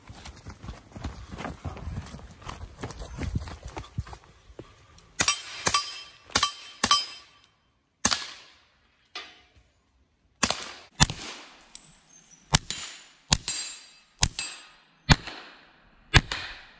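Repeated pistol shots from a KelTec CP-33 firing CCI Mini Mag rimfire ammunition, about a dozen sharp cracks at uneven intervals with short ringing tails, preceded by quieter handling clatter.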